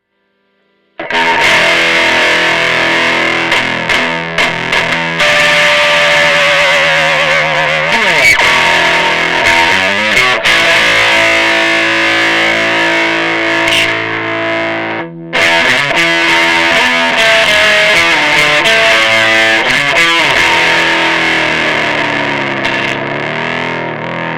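Overdriven, distorted electric guitar played continuously for a long stretch, thick and loud, with sustained chords and bends through an effects pedal.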